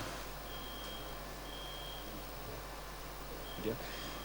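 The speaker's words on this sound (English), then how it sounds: "Is that a fire alarm?" An electronic alarm beeps in high, thin tones during a business conference session: two or three evenly spaced pulses that sound faint and distant over a steady room hum, with a brief thump near the end.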